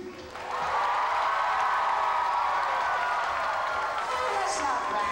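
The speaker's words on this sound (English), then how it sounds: "we want to hear a big round of applause and lots of noise" An outdoor audience at a Batman stunt show at Six Flags Over Texas breaks into applause and cheering, a broad sustained roar of clapping and shouting that rises quickly and holds steady.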